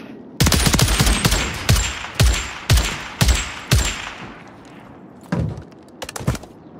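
Battle rifle fire in a first-person shooter: a fast burst of sharp, punchy shots at close range, then a pause and a few more cracks, each with a short ringing tail.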